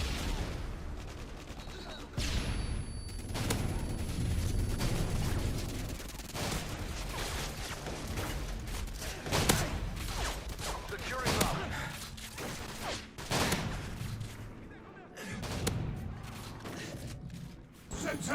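Rapid automatic gunfire from a heavily modded, overpowered gun in Call of Duty Modern Warfare 2, loud dense bursts running almost without pause under game noise and radio chatter.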